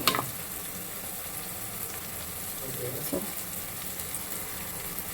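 Spices frying in oil in a pan for Uttara Karnataka style mandakki mirchi, a steady close sizzle with a brief stirring clatter near the start.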